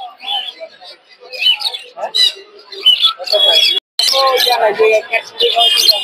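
Caged birds chirp and tweet at a Sunday bird market in Tongi bazaar, with scattered bright calls mixed in among close conversational voices.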